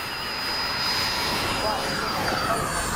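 Hobby King Avios 90mm MiG-17 model jet flying in the evening, a steady distant whooshing whine of its ducted-fan engine overhead, constant in level throughout with no talk.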